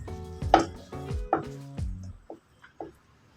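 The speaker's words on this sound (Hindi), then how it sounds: "तो एक हम पतीला लेंगे, इसमें सारा कटा हुआ पेठा हम शामिल कर देंगे।" Grated pumpkin (petha) tumbles into a metal cooking pot, making a few clattering knocks and soft thuds in quick succession, followed by fainter scattered taps as the last bits drop in.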